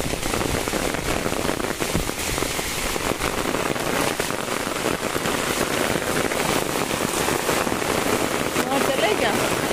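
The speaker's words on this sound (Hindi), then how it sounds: "एकदम झमाझम वाली बारिश हो रही है" Heavy monsoon rain pours down steadily outdoors, a loud, dense, continuous hiss and patter of drops drumming on surfaces, close and unbroken throughout with no talking.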